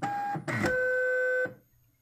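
A Zebra GK420t label printer, sold for parts or repair, gives a short feed: brief electronic tones and a whirring run of about a second, close and fairly quiet, then stops.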